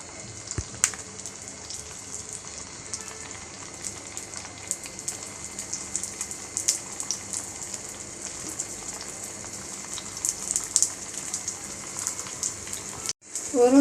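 Vadas for a Marathi fasting thali deep-frying in hot oil, with a steady dense crackle and sizzle and scattered sharp pops running throughout, then a brief clatter near the end.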